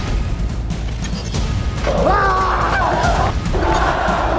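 A dense football stadium crowd roars continuously, with scattered shouts and a chant rising above the steady wall of cheering.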